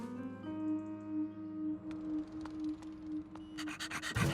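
A cartoon dog pants in a steady, rhythmic run of quick breaths, close and moderately loud against a sustained musical background, with a brief burst of brighter noise near the end.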